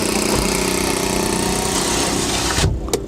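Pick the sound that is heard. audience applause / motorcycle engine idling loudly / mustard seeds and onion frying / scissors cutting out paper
motorcycle engine idling loudly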